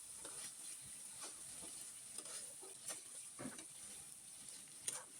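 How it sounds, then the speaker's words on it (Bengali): Beef pieces for a papaya and beef curry frying in oil with the water cooked off, a steady faint sizzle broken by scraping stirs at irregular intervals, close and alone. "এ পর্যায়ে মাংসটা একদম ভাজা ভাজা করে কষিয়ে নেব।"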